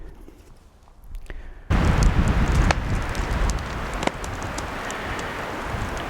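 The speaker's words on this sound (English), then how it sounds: "it's still gusting and windy" Strong wind gusts across a remote island campsite in cold weather, a loud broad rush that surges in abruptly after a quieter start and keeps buffeting with rustling noise.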